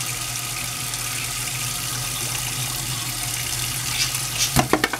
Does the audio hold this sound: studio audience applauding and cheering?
no